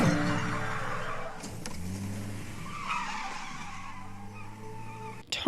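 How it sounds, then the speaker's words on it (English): A car skids through a street in a suburban TV drama scene, striking a woman: a loud, sustained tire skid with engine roar fills the moment, ending in a sharp impact at the very end. "Turns out the car that hit her was the little brat Andrew"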